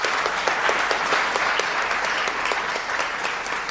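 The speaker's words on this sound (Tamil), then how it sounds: "ஒரு பலத்த கைத்தட்டு தர வேண்டாமா?" Audience applause fills a hall for a research student after a Tamil stage talk, steady and dense with many hands clapping at once, holding a fairly even level throughout with no voices over it.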